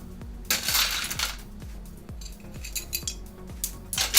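Pebbles are spooned from a metal spoon into a pot while repotting succulents indoors, with bright clinks and rattling scatters in several bursts up close, no talk.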